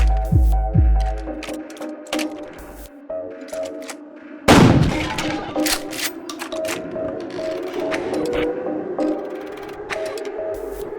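Pump shotgun blast in a Russian roulette video game, one loud close boom midway through, set among game clicks, chimes and steady background music.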